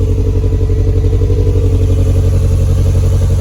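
A Toyota MR2 engine idles steadily and close by, its uneven low rumble carrying the lumpy beat of a cylinder misfire, with no voices over it.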